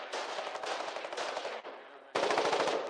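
Rapid machine-gun bursts rattle out close and loud in a Foxhole battle, one long stream that dips briefly before a heavier burst resumes.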